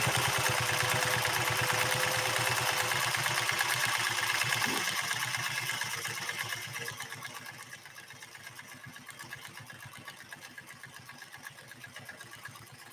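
A Singer 401A sewing machine runs steadily while stitching a 3-point zigzag, producing a fast, even mechanical chatter. It is loud at first, then eases to a softer, slower whir partway through, with no talking.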